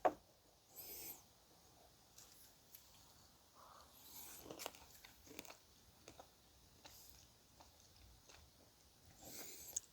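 Sweet pomegranate seeds are chewed close to the mic, soft faint crunches and mouth clicks scattered irregularly over several seconds.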